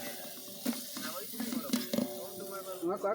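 A handful of onions sizzles in hot frying oil with a soft, crackling hiss and scattered pops, close and moderately quiet, with faint voices in the background.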